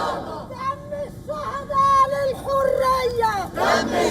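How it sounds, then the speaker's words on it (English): Egyptian protesters gather in Cairo and chant slogans in unison with rhythmic rising and falling phrases, loud crowd voices rolling over background hubbub. "crowds of Egyptians gathered in Cairo to protest against the displacement of Palestinians outside of Gaza, waving banners and chanting slogans"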